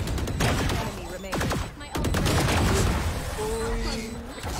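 Rapid bursts of automatic gunfire from the agent Chamber in a shooting video game, loud and close, with overlapping shots and booms and a faint tone near the end.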